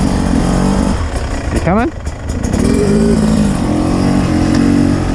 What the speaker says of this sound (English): So this is the 2022 Beta 300 two-stroker.